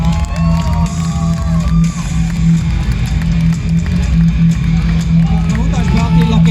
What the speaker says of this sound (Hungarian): És tapsal buzdítsák a versenyzőket!